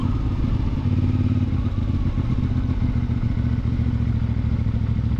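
A CFMoto 450MT motorcycle engine pulling steadily at about 2000 rpm, giving a low, even, throbbing rumble with a faint mechanical clatter, heard up close and unchanging throughout.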